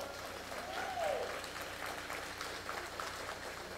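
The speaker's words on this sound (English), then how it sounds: "Y'all should clap your hands to that." Moderate audience clapping at a faith-based conference plenary session, a steady wash of applause with a brief tonal squeal near the start.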